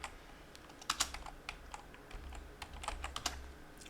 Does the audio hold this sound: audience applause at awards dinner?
no